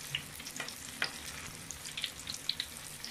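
Lumpia with bean sprouts frying in hot oil in a pan, a steady crackling sizzle with scattered sharp pops and light stirring scrapes throughout, close and fairly quiet, no talking.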